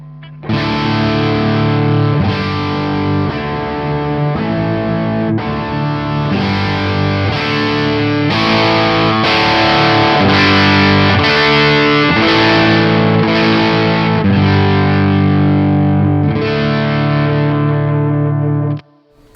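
Electric guitar played through a Victory VC35 The Copper amp while its tone knob is swept from bottom to top: loud, distorted chords strummed again and again in a steady rhythm, ringing alone and close without any talk.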